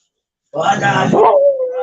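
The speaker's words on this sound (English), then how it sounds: "Yeah, I'm sorry, my dog is talking." A pet dog gives yips and whimpering bark-like vocal sounds, close and loud, ending in a sustained whine, with no talk over it.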